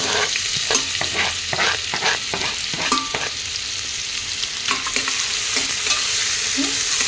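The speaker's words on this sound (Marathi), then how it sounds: "त्या तेलामध्ये आता आपण कांदा टाकत आहोत." Chopped onion hits hot oil in a pressure cooker for shevla ranbhaji, giving a steady bright sizzle with scattered scraping stirs and small crackles throughout, no talking.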